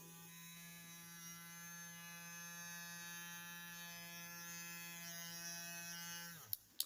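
A homemade sonic toothbrush motor buzzes steadily with a strong, rich harmonic drone for about six seconds, then cuts off abruptly, followed by a couple of sharp clicks as it is switched off and handled.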